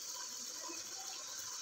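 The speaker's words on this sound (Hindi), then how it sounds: "पानी ऐड करेंगे" Water is poured into a pot of beef meatball curry (kofta salan) being cooked, a steady faint gushing pour with no talk over it.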